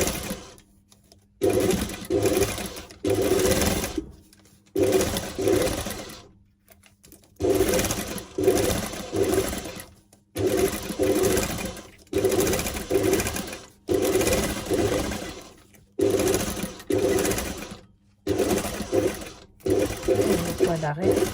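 A domestic sewing machine stitches a seam through fabric in repeated bursts of rapid, whirring needle action, each run lasting a second or two and separated by brief pauses, close and loud.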